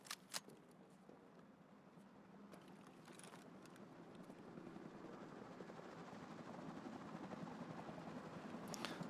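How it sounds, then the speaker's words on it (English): A helicopter arrives in a video game, with a steady rotor whir and rumble that slowly grows louder as it approaches, broken by a few faint clicks. "I should call the helicopter in."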